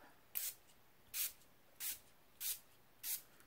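Five short bursts of aerosol spray hiss at a steady rhythm, each about a third of a second, separated by quiet pauses.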